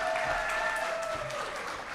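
Sustained applause from a conference audience for a panel moderator, dense and steady for the whole stretch with no talking over it.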